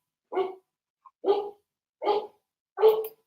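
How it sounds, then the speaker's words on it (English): A dog barks excitedly in four evenly spaced, sharp barks with a tiny yip between the first two, clear and fairly close with silence in the gaps. "Oh, the dog's going nuts now."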